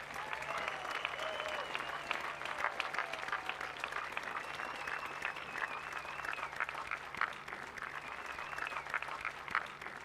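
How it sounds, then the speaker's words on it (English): Sustained applause from a ceremony audience honoring veterans, a dense, steady patter of many hands clapping for about ten seconds at moderate distance. "Let's give a nice round of applause for Wally."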